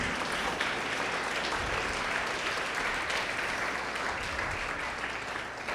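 A church congregation applauds together, a steady, dense clapping that fills the sanctuary and holds for several seconds without letting up.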